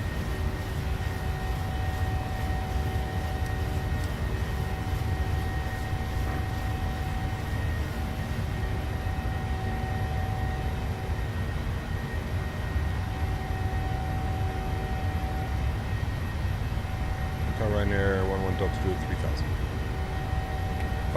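Twin engines of a PMDG 737 at climb power in Microsoft Flight Simulator, a Ryanair flight departing Barcelona, give a steady, loud broadband roar with sustained tonal whine throughout, a brief voice entering near the end.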